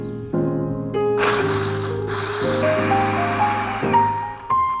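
Peppers and sauce grinding in a lidded electric grinder, a loud motor whir with shifting pitch as it runs in several close bursts, no talking.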